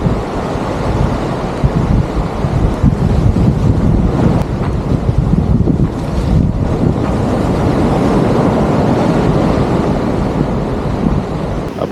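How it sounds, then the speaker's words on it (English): Heavy surf rolls in around a jetty on the open ocean while strong wind buffets the microphone, giving a loud, continuous roar with surging swells and no voices. "Oh, some big waves coming in."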